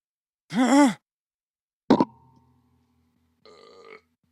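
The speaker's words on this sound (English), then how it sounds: "I have a burp stuck in my throat." A loud, drawn-out burp, followed by a brief exhale or grunt and a short, quieter voiced sound, with silence between them.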